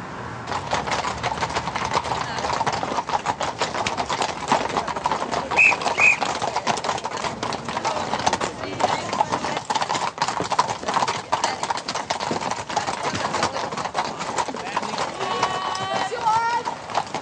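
Police horses' hooves clip-clop steadily on pavement throughout during a Belgian mounted police crowd-control exercise, with people talking over the continuous rhythmic hoofbeats.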